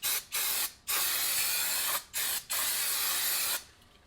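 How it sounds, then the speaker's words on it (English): Brake cleaner sprayed onto new front brake rotors of a 2011-2017 Ford Explorer during a pad and rotor replacement, four close, loud hissing bursts of varying length separated by brief pauses. "give them a quick little spray here"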